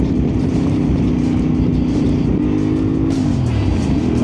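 A motorcycle rides off a gravel stretch onto pavement, its engine droning steadily and loudly up close with a pitch shift near the end as the clutch is worked.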